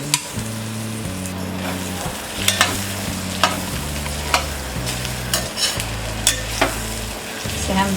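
Boiled black chickpeas frying with spices in a pot, an even sizzle under repeated loud scraping strokes and sharp metal knocks from stirring, with no speech.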